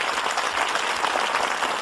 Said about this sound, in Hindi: अपनी जोरदार तालियों के साथ आमंत्रित कीजिए